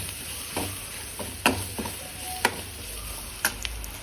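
Onions with turmeric, chilli and coriander powders sauté in a pan for a Tamil paruppu urundai kuzhambu, a soft steady sizzle broken by several sharp clicks of a stirring spoon.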